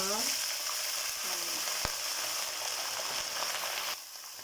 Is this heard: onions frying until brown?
yes